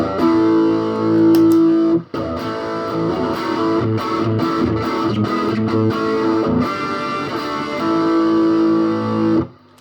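Thick, distorted electric guitar chords through an Electro-Harmonix Soul Food overdrive pedal into an already overdriven amp ring out with sustained, buzzing overdrive, pausing briefly then continuing; a steady hiss sits beneath the saturated tone.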